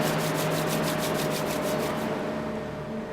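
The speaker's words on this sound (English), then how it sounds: "Rub your palms." Palms rub briskly together in a rapid back-and-forth, making a close, dry swishing that repeats about a dozen times before settling into a softer steady rub.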